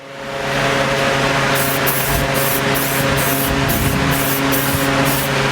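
A rust-protective coating is sprayed onto a rat rod truck, making a loud, continuous hiss that holds steady for several seconds after a short build-up, with no talking.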